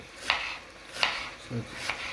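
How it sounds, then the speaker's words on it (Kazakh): A knife chops an onion on a cutting board, three or four distinct sharp thuds at a slow, uneven pace, close by and fairly quiet. "Пиязымызды турап бастадық."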